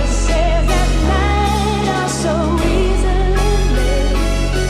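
Analog lap bass playing along with a sampled drum break, a deep sustained low line holding under a busy loud loop of drums and harmonic texture, with no talking.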